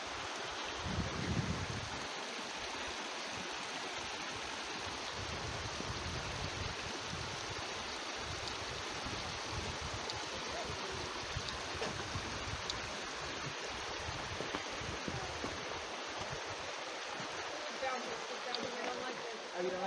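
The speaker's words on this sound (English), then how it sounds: "Now, this river is the one from Marymere Falls." A river fed by Marymere Falls gives a steady, continuous broadband rush of flowing water, with some faint low rumbles near the start.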